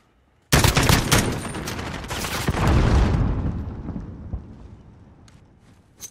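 An M4 rifle fires in Call of Duty Modern Warfare: a loud, sudden flurry of rapid shots that rolls on for a few seconds, then decays into a fading rumble with a few faint later pops.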